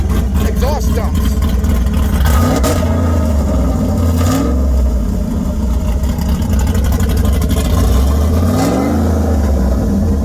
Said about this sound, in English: he came up and revved at me, so I opened my exhaust